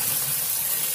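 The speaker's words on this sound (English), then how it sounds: "So I'm gonna pour the water in there." Roughly ten litres of water from a bucket pour into a KUPPET compact twin tub portable mini washing machine, making a steady close splashing gush that holds at an even level for a second, with no talking.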